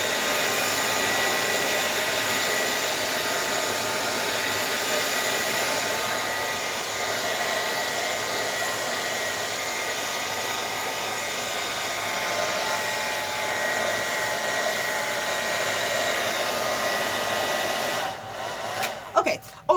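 A hair dryer blows steadily on liquid watercolor in an altered book, a loud, close, continuous whooshing hum that holds nearly twenty seconds before cutting off with a few clunks at the end.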